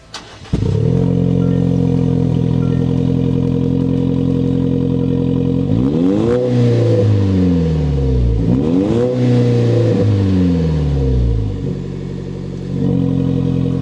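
A 2024 Toyota Tacoma pickup starts up and its exhaust note rumbles steadily, then revs sharply in several rising and falling bursts before idling again.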